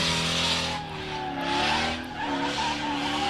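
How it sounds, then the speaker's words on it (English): A baby blue BMW drift car skids around Meremere Drift Park during a drift competition, its tyres squealing continuously with the engine held on the gas, rising and falling in waves, loud and fairly close. "keeps it on the gas, keeps the rear tyres turning"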